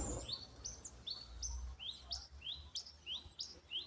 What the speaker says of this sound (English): And listen to the birds.